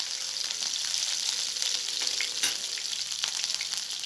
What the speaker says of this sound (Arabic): هنحط الثوم الاول